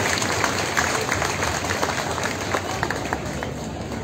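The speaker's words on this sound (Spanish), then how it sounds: "Fuerte el aplauso al Señor" A crowd gathered at a peace march applauds loudly and continuously, a thick, close roar of many hands clapping with scattered individual claps and faint voices mixed in.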